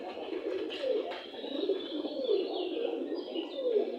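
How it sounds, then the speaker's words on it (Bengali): Domestic pigeons kept on a small farm coo in a repeated, soft rhythmic series, several birds close by with faint chirps behind, no talking. "আল্লাহ ভরসা আমার অনেকগুলো কবুতর হয়েছে"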